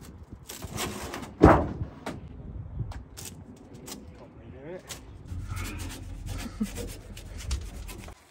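Sandpaper rubs over sharp metal edges inside a Sprinter van under conversion, making irregular rasping strokes close by. A loud scrape comes early, then softer scuffs, with people talking now and then.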